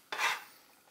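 Onions dropped into a pan of hot olive oil give a quick soft hiss and scrape that fades into a faint sizzle, close and brief with no talking.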